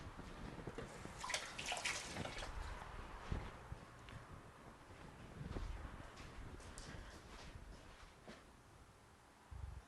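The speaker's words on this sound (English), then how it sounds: "I'm going to wash my hands real quick." Water running from a tap as hands are washed, with faint splashing and rubbing in an uneven rhythm, quiet and close-up with no talk.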